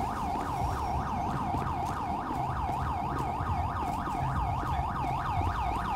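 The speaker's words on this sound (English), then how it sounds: "Or I guess this siren just gonna stay on, guys." Police car siren in GTA 5 wailing in a fast, steady up-and-down yelp throughout, loud and continuous over a low rumble of engine and background noise.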